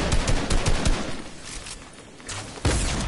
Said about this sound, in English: I'm shooting at his floor.